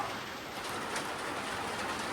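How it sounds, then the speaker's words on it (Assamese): Rain comes down steadily as a dense, even hiss with no break, heard alone with no voices. "আহি গ'ল ফাইনেলি বৰষুণ"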